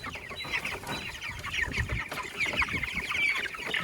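A flock of broiler chickens on pasture keeps up a dense, steady chorus of loud, high chirps and soft clucks, nearby and uninterrupted, with no voices.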